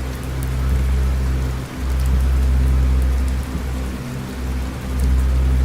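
Heavy, torrential rain pours down at the Sportsland SUGO race circuit in Japan, a dense, continuous hiss with a low rumble underneath that holds steady throughout with only slight dips.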